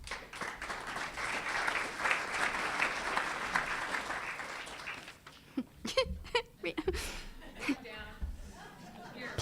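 An audience at a retiree luncheon applauds to welcome a speaker, a dense steady clapping that fades out after about five seconds into scattered claps, murmurs and a few voices.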